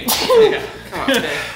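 A sharp, close sneeze bursts out over an SNES Star Fox session, followed quickly by people talking.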